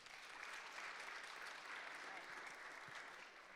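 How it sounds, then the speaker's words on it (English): An audience at a mental health workshop applauds, a steady wash of many hands clapping that fills the whole stretch without letting up. "Let's give her a round of applause."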